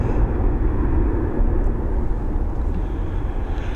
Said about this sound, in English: great shots here of the Boeing 767 ascending into those grey looking skies to begin that journey over to Boston.